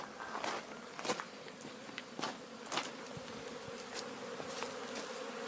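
Honeybees buzz near their hive during a cleansing flight, a steady outdoor hum with individual bees droning past close by at irregular moments, moderately loud.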